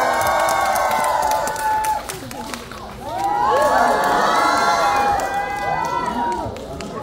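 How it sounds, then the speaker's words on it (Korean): An audience claps and cheers at a stage greeting for a Korean film, loud sustained applause mixed with shouts and whoops that dip briefly, then surge again as the cast enters. "제가 하나 둘 셋 하고 박수와 함성 질러주시면 감독님 배우분들 인사하러 들어오실 겁니다"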